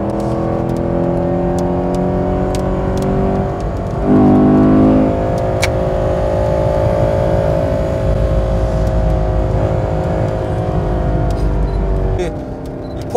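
A loud 6.2-liter V8 Chevrolet Camaro SS engine roars and revs continuously on a race circuit, its pitch rising and dipping as it accelerates, with a brief surge partway through.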